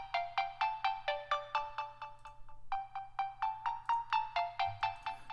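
Bright, EQ-brightened synth plucks in a produced track, playing a steady rhythmic pattern of sharp repeated notes with a brief pause midway, loud and upfront with no talking.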